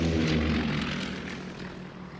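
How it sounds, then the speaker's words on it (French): A propeller airplane drones past, a steady broadband engine roar that is close at first and slowly fades, with no voices over it. "Les avions passent tous les 8 jours."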